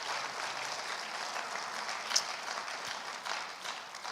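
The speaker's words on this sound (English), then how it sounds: "let's have a round of applause as we conclude this portion of it" Audience applause at a Friday night Shabbat service, a steady wash of many hands clapping at moderate volume, fairly even throughout with a slight swell midway and no voices over it.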